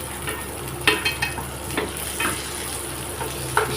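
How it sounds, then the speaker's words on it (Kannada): Peanuts and onion fry in a hot pan under a steady sizzle, with several louder scrapes and stirs spaced through it, close up and with no voices. "ಕಡಲೆ ಬೀಜ ಚೆನ್ನಾಗಿ ಫ್ರೈ ಆಗಿದೆ. ಇವಾಗ ಕಡಲೆ ಬೀಜನ ಇದು ಮಿಕ್ಸ್ ಮಾಡಿಬಿಡೋಣ."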